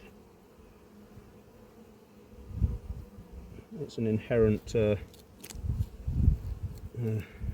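Honeybees buzz steadily around a beekeeper at an apiary, a close, constant droning hum beneath a voice and some handling thumps.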